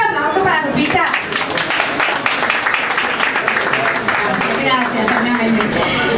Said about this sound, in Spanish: Un fuerte aplauso para Lupita